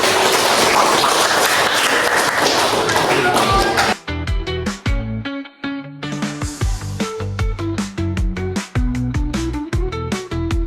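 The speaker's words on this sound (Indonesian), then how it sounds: "Terima kasih, tepuk tangan juga." A high school class of twelfth-grade students gives a dense, loud burst of clapping for about four seconds, then the noise stops abruptly and is followed by irregular taps and thuds.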